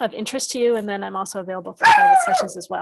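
A newly arrived dog barks and yelps indoors at home, a few sharp bursts in the background while a person keeps speaking steadily over it.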